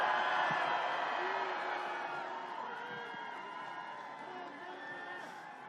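A crowd at a Seoul presidential campaign rally cheering and whooping, a dense roar of many voices that fades gradually, with a voice speaking over it.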